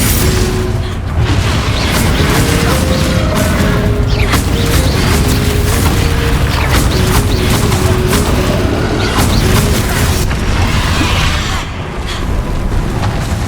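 Confringo fire-spell explosions in Hogwarts Legacy during a battle with Ranrock: a dense, loud, continuous roar of blasts and magical bursts with a droning tonal layer, and no pause.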